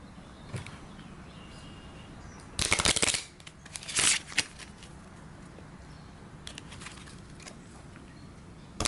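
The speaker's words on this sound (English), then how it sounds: "I'll give this a quick shuffle." Cards for the Sentinels of the Multiverse board game are shuffled in a few quick riffled bursts, nearby and moderately loud, with quiet pauses between them.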